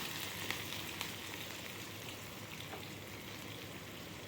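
Onions frying with curry leaves, dried red chili and grated coconut in a pan, a faint, steady crackling sizzle with a few soft pops throughout; no talking.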